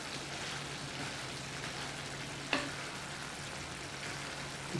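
Shrimp sizzle softly in a pan of lemon butter and garlic while being stirred, a steady quiet hiss broken by one sharp clink of the utensil against the pan partway through.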